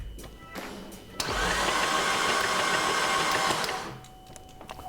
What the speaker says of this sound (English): I'm gonna leave this filter off and turn the engine over